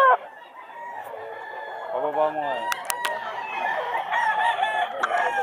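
Roosters, bullstag cocks at a Bulacan pet market, crow loudly and repeatedly nearby amid a busy outdoor bustle, with people talking throughout.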